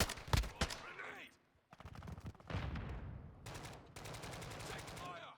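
Rapid bursts of automatic gunfire in Call of Duty Modern Warfare 2, loud close rattling volleys with short pauses between them, shots trailing into echoing tails amid combat noise.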